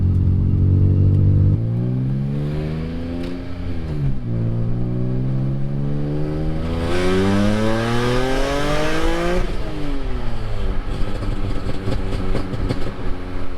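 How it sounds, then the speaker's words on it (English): Car with new Active Auto Work aftermarket headers accelerating through gears 3 to 6, engine pitch climbing in repeated sweeps with drops at each shift, loud and close from inside the cabin, with no talk. "We're just gonna go out for a little test drive and see what the headers sound like."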